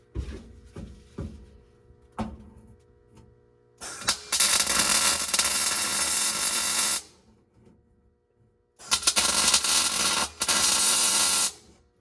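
Tack welds join a floor shift center console in a Mopar A, B or E body car, heard as two sustained bursts of harsh, crackling hiss after a few light clicks and knocks.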